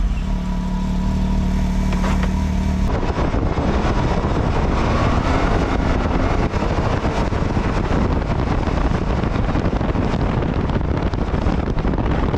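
A car driven to a shooting range, its steady engine and road noise heavily buffeted by wind rushing over the microphone, continuous and loud throughout with no talking.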